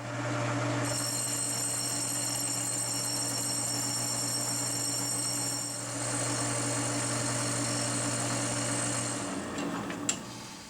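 A lathe machines a Nissan 620/720 Hardbody D21 wheel hub to true it, producing a continuous steady mechanical hum with a strong low tone and high whine that runs for about nine seconds, then winds down near the end.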